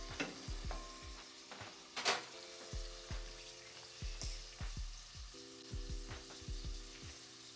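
Onions sautéing in a pan for vegan butternut bisque, a soft steady sizzle under a regular series of low thumps and faint tonal hums, fairly quiet and without talk.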